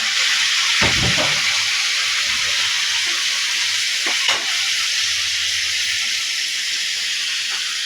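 White vinegar hits a hot pan while making a mustard mango pickle, setting off a steady, loud sizzling hiss with a few sharper bursts as the liquid pours in.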